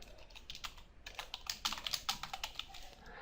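Rapid typing on a computer keyboard, a steady run of light clicking keystrokes at close range with no voices.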